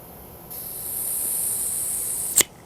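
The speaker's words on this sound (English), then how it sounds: "That looks like butane coming out the top." A steady high-pitched hiss of butane spraying from a refill starts abruptly and holds for about two seconds, ending with a short sharp burst before stopping.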